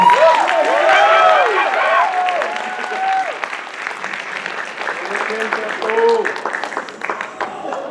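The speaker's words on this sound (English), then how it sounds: "So let's give Gina a huge round of applause." A show audience gives Gina applause, with clapping and cheering that start loud and then ease off, while voices and calls ring over the crowd throughout.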